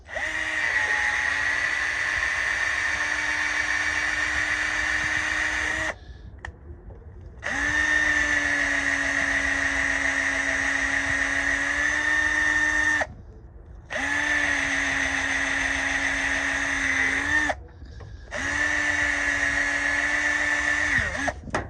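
A power drill whirs steadily in four long bursts, cleaning out threads on truck service line fittings, each run a few seconds long with short pauses between, close and loud with no talking.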